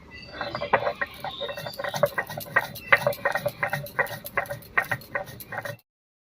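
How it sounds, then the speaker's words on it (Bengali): Roasted whole spices are ground for a village-style duck egg curry, giving a rhythmic series of sharp crunching, rattling knocks that repeat steadily for about six seconds, close by and without talk. "ভাজা মশলাটা আমি গুঁড়ো করে নিচ্ছি"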